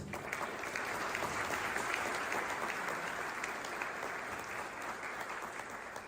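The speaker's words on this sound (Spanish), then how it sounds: "pido un aplauso para ellos" Applause from an audience at a talk, thanking the invited team: a steady, fairly loud burst of many people clapping that holds for several seconds and tapers slightly at the end.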